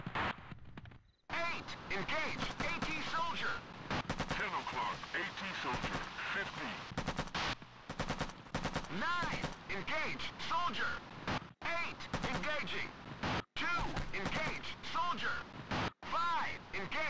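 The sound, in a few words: gunfire in a video game mission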